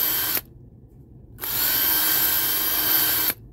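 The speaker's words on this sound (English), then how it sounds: "Okay, so we're going to take the drill." A power drill drilling a pilot hole in a ski whirs briefly, stops for about a second, then runs again in a longer steady high-pitched burst, close by.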